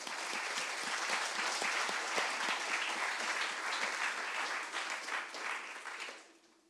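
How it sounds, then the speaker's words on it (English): A seminar audience at a quantum field theory workshop applauds the organizers in a sustained, even round of clapping that tapers off and stops near the end. "So please, let's have a round of applause for them as well."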